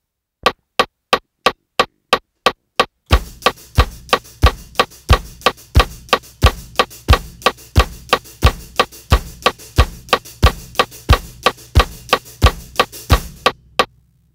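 Sharp stick clicks count in evenly, then a full drum groove kicks in with a steady four-on-the-floor bass drum under ticking hits.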